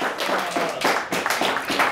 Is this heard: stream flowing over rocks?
no